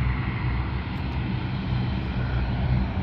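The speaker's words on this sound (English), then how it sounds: "So it's gonna start taxiing any moment now." An airplane taxiing at Canberra International Airport, a steady, broad engine roar and hum that holds even throughout, fairly close and with no voices.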